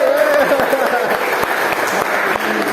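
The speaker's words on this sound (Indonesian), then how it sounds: "Ya, silakan tepuk tangan." Students in a classroom clapping their hands on a teacher's cue, loud and close with a rapid flurry of claps, while a voice talks over the clapping.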